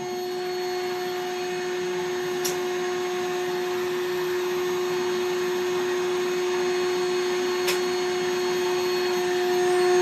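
A Rainbow vacuum cleaner runs steadily throughout with a constant motor whine, close and loud, with two brief clicks or bumps along the way.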